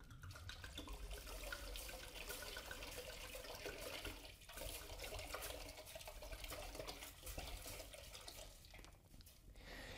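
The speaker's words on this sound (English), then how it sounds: "What we're gonna do now is we're gonna pour the port on top of that." Port wine poured into a pan for a Smoking Bishop punch, a steady splashing liquid stream lasting several seconds with brief dips, close and fairly loud with no talking.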